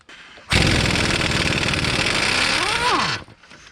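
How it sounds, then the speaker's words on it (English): An impact wrench hammers at a castle nut on a Hyundai Santa Fe outer tie rod in one loud, close, continuous burst of rapid rattling, about three seconds long, ending with a brief pitch change before it stops. "I can get in there with my impact wrench and see if I can blast that nut off of there"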